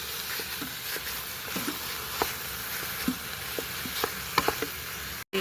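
Sausage is stirred and browned with a wooden spoon in an Instant Pot, making a constant sizzle with scattered light scraping taps, close and steady with no talking.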